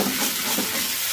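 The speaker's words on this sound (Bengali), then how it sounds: "এটাকে কম আছে এইভাবে নাড়াচাড়া করতে হবে" Sabudana upma being stirred in a kadai over a low flame, a close soft scraping and gentle sizzle in one brief continuous stretch.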